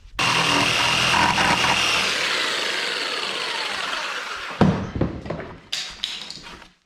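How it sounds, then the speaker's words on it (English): Jigsaw cutting a defroster vent hole in the cab of a 2018 Polaris Ranger 900 XP, a steady close buzzing saw for about four seconds, then stopping, followed by a few scattered clunks and taps. "And then get our jigsaw in there"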